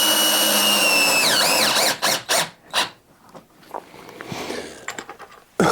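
A power drill drives a screw up into ceiling drywall, with a loud, steady motor whine that dips in pitch as it bites. A few short, sharp bursts of drilling follow, then quieter handling noise and one final brief burst.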